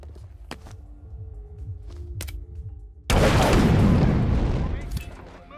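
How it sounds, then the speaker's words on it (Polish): In the video game Hitman (2016), an explosive charge is detonated: quiet game ambience with a few clicks gives way to a sudden loud boom and a long, rumbling decay. "a ja tylko wysadzę ładunek i to będzie na tyle"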